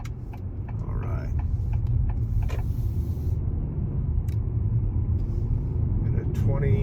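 A 2022 Acura MDX in sport mode accelerates hard from a 25 mph roll. The engine drones steadily and loudly under the cabin, with brief clicks and rustles over it.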